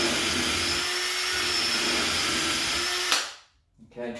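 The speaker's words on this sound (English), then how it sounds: "You've got to make sure that you're drilling straight every time." A power drill bores shelf-pin holes through a wooden template, a loud steady whine held for about three seconds before cutting off, followed by a short faint rattle.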